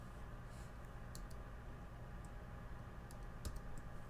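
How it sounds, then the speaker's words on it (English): Soft, fast keystrokes rattle on a computer keyboard, a few quiet clicks pressing the Command U shortcut against a low steady background hum. "It's because I'm pressing Command U on my keyboard."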